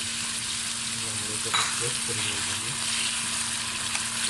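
Tomato paste seasoned with salt, chili and a pinch of turmeric sizzling in a pan for salsa chicken, a steady soft frying hiss with faint stirring scrapes, close and fairly quiet.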